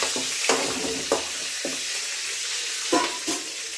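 Curry leaves, onion, tomato and green chilli sautéing in a pan, a continuous bright sizzle broken by several stirring scrapes at irregular intervals, with no talking.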